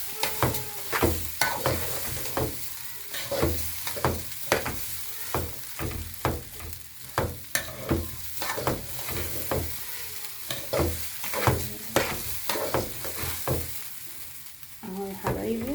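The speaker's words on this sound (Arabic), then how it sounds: "تشويحه حلوه كده يعني، تقلبي تقليب مستمر" Rice sautés in melted butter as a spoon stirs it constantly, giving a soft sizzle punctuated by regular scraping clacks against the pot, moderately quiet and close, with no speech.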